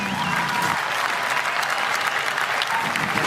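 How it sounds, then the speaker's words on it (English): Motorsport race fans applaud from the grandstands, a continuous wash of distant crowd clapping heard steadily throughout. "Fans already giving a round of applause"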